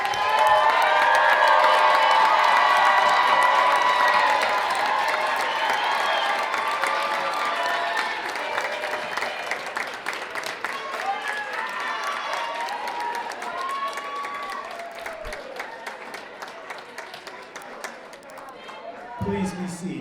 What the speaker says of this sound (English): let's stand and recognize our graduates' new status and to reward them with generous applause.